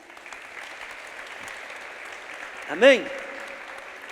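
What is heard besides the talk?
church congregation applause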